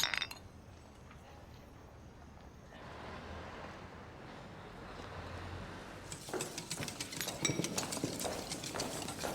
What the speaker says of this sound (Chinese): 祝咱们副本能够圆满成功，干杯！